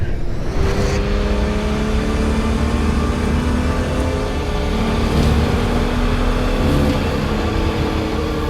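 Porsche 917K race car engine running loud and close, a steady high-revving roar with rising harmonic sweeps as it accelerates, continuous throughout with no talk.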